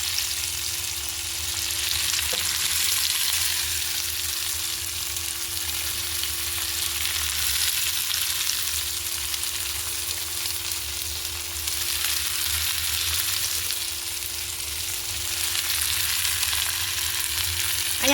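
Chopped onion sizzles steadily in a hot pan, a dense, even hiss that swells and eases slightly in waves, close and continuous with no talking.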